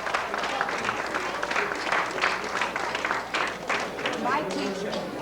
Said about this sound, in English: I would like a big round of applause for Carmen Carrozza